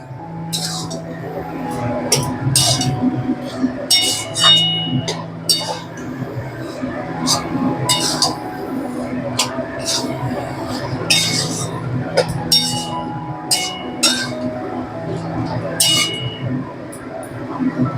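An ash gourd chhechki being stirred in a pan: repeated light metallic clinks and scrapes from the spoon at an irregular pace, with a voice talking underneath much of the time.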